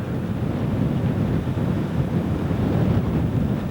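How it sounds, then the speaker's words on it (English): Strong wind at the derelict Herrison Hospital in Dorset buffets the microphone in a continuous low roar, loud and gusting slightly, with no voices. "Very windy here today"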